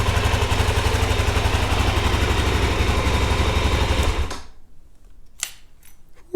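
A Suzuki DR-Z 400 SM supermoto, a UK model, idles with a steady, rapid low thump for about four seconds, then cuts off, leaving near silence broken by a few faint knocks.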